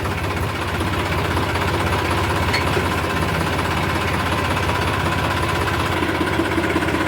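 A tractor engine idles on a farm on a rainy day, a loud continuous low rumble with a steady knocking chug throughout, close and unbroken, no voices.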